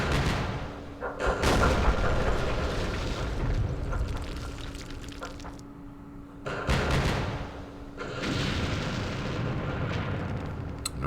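Repeated 120mm mortar impacts in a Vietnam wargame at Dien Bien Phu, heavy low booms arriving in several loud bursts with rumbling decay between them, no talk.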